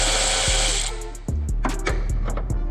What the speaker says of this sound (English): So let's go ahead and remove this bolt here.